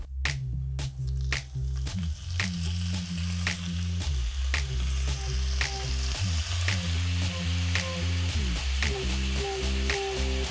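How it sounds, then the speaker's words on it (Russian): Small glazed meat pieces for skewers fry in sesame oil in a pan, giving a loud, steady sizzle and crackle throughout with a few sharper pops and stirring clatters near the start, no voices. "Кусочки маленькие, обжариваются моментально."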